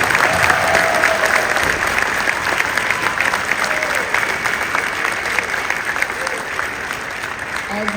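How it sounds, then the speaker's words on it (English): Audience clapping for a middle school orchestra at a winter concert, a sustained, full round of applause over eight seconds, steady and loud, with scattered voices and murmurs from the crowd mixed in. "Give them a round of applause."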